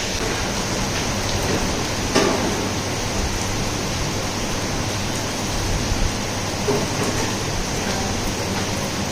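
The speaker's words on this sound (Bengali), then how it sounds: "বাইরে বিশাল বৃষ্টি হচ্ছে।" Heavy rain pouring outside during a monsoon evening, a dense, steady roar of falling water with a few sharper drops and knocks, loud and constant with no voices.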